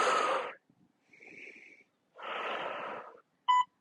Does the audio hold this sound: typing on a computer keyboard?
no